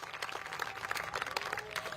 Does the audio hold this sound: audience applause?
yes